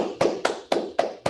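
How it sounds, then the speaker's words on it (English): Applause at an online training milestone ceremony comes as five close, crisp hand claps in an even rhythm, the sound of a single clapper near the microphone. "let's do one more unmute, one more round of applause"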